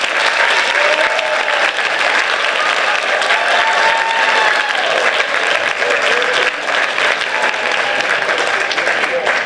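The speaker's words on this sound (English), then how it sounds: "Please join me in one more round of applause for our 2025 Hall of Fame inductees." An audience applauds 2025 Hall of Fame inductees at a Cheltenham induction event, producing a dense, steady wash of many hands clapping at full loudness for the whole stretch.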